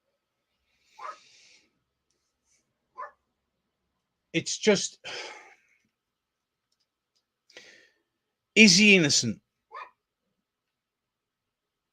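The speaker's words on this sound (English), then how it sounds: "I'm getting distracted because my dog's going mental" A pet dog barks and whimpers in short, sharp bursts indoors, loud and close, split by silent gaps, with someone talking between the barks.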